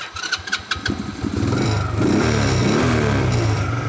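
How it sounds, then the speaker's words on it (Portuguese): An Avelloz motorcycle engine with unadjusted valves cranks with a few quick bursts, catches, and settles into a loud, steady running rumble close by. "Vamos mostrar o barulho da motoca, né?"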